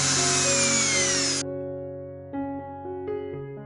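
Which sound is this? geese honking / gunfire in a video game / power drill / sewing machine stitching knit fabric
power drill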